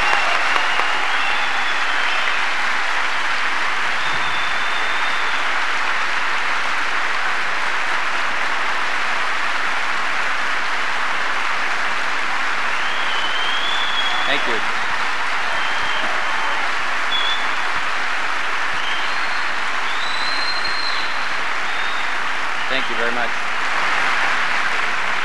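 A large audience at a 1985 United Airlines pilots' association gathering applauds steadily for about twenty-five seconds, a broad even roar of hands clapping with faint voices underneath.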